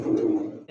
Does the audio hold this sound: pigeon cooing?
yes